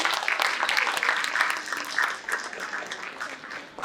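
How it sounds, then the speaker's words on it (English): An audience at a school oratorical contest and art competition breaks into applause, many hands clapping steadily at moderate loudness and easing slightly toward the end. "So give yourselves a round of applause."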